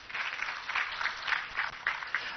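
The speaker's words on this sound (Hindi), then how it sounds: "एक बार बत्रा जी के लिए तालियां बजनी चाहिए" Audience clapping for Batra ji at a poetry gathering comes in rhythmic surges, moderately loud and somewhat muffled, with no talking over it.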